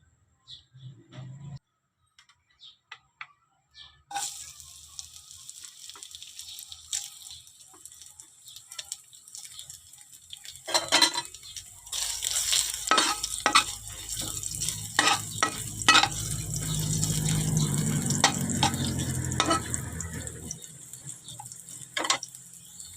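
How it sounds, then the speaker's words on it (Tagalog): Cabbage stir-fried in a pan, starting near silent, then a sizzle rising with scattered clinks and scrapes of stirring, growing louder and steadier toward the end. "hinangon na natin ang repolyo."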